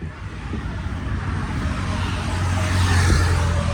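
A Kia Sonet rolls in, a low engine rumble that starts faint and grows steadily louder and closer, with no talking over it.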